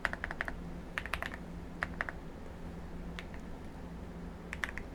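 Computer keyboard typed in short bursts of crisp, distinct key clicks while entering code, scattered across a steady low room hum with pauses between clusters.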